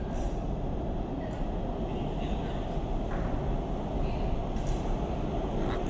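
An underground metro train at Taj Mahal station gives off a steady low rumble throughout, loud and close, with faint higher hissing and squeals above it.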